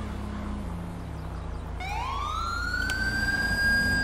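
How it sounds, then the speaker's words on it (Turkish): A rising police siren wail from a GTA 5 driving game, sweeping up in pitch and then holding steady and loud over a low rumble of engine and traffic noise. "Those sirens weren't for us."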